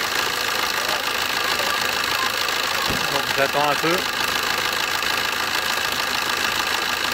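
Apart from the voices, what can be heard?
Opel Agila DTI engine idling while warming up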